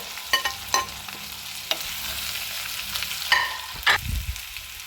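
Tomato masala with curry leaves sautés in a pan for a kilimeen fish curry, a soft continuous sizzle broken by several sharp spoon taps and scrapes against the pan.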